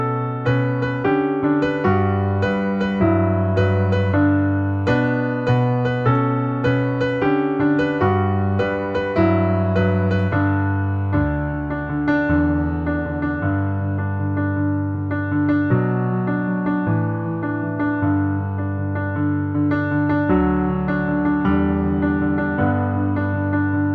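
Solo piano plays the intro and verse of a song, a flowing passage of rolling chords and melody, steady and moderately loud, continuing without pause and with no voices.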